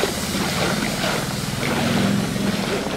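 A small boat motoring across an inner cove at Culebra in the Caribbean, a steady close engine drone with rushing wind and water noise, no talking.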